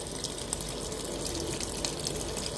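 Water runs steadily from a tap in a home while laundry is being done, a continuous dense rushing hiss filling the whole stretch with no talk.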